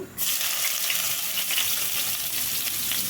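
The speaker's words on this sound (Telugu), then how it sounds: "ఉల్లిపాయ ముక్కలు ఒక్క సెకండ్ అట్లా వేసుకొని" Onion pieces hit hot oil with a sudden burst of sizzling, then frying carries on steady and close in a home kitchen, alone without talk.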